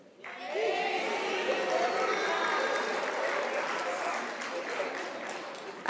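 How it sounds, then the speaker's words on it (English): An audience at a University of South Africa spring graduation ceremony bursts into sustained clapping, a crowd-wide patter that starts abruptly, stays full and lively, then eases slightly, with some murmuring voices mixed in. "You get very tired of clapping your hands"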